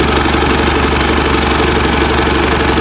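A boat engine runs without load, giving a loud, steady, dense rumble with a constant knocking vibration throughout, close up and with no voices.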